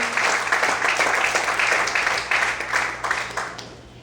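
A church congregation claps together in steady, dense applause that holds at an even level and tapers slightly toward the end, with no talk over it.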